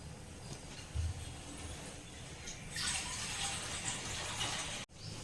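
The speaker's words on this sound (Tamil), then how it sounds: "தண்ணி ஊற்றி ஊற வச்சுருவோம்." Water poured onto rice in a bowl to soak it, a soft gushing splash that swells midway and runs a couple of seconds, fairly close and quiet, with a brief thump near the start.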